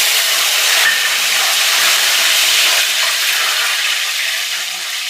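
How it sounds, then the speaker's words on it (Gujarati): Mint leaves fry in hot oil with a loud, continuous hiss and sizzle, close up and steady throughout, easing slightly toward the end. "ફુદીનાના પાન પણ તળી લેશું."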